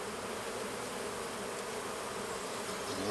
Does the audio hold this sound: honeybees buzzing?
yes